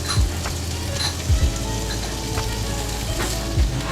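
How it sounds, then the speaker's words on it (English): Meat sizzles on a hot stone at a yakiniku restaurant, a continuous soft crackling hiss with light pops throughout, set against low restaurant rumble. "you use this hot stone here, and cooking it up on top like that"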